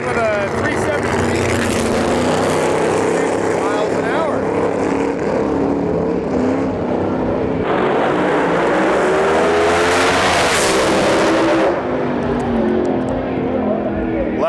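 Two Pro 275 drag race cars run side by side down the strip at the U.S. Street Nationals, reaching 198 mph, with loud, sustained engine roar that surges and sweeps in pitch as they pass, and a commentator speaking throughout.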